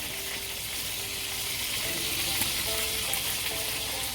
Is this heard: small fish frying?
yes